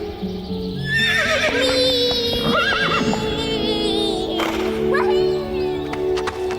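A horse whinnies in a bright, wavering call over a music-like backdrop, with a second neigh later, both prominent and close, in the video game Star Stable: Mistfall.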